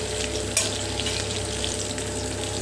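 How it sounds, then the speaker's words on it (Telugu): Large onion pieces and capsicum frying and being stirred in hot oil for chilli chicken, a loud steady sizzle with scraping stir strokes and a brief clank, no talk. "ఇందులోనే ఆనియన్స్ పెద్ద ముక్కలు వేసుకోవాలి. బాగా ఒకసారి కలుపుకోవాలి."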